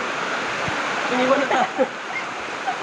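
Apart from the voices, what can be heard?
river water flowing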